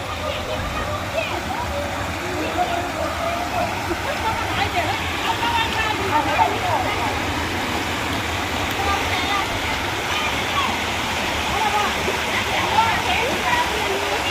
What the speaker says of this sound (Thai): ฝาย นี่ครับฝายน้ำล้นนะครับ